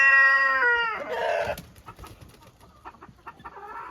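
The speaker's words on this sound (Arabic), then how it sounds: "التوكا ديال ليغورن خليط فيها ليغورن والفرنسي تقريبا" Leghorn and French breed mix hens on a farm let out a loud drawn-out squawking call, then settle into softer scattered clucks and rustling nearby.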